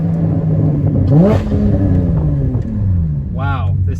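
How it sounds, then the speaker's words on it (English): A Porsche GT4 sports car engine revs hard under throttle on a mountain highway, rising and falling in pitch with a sharp surge midway and another near the end, loud and close with people talking over it. "the throttle response is off the charts"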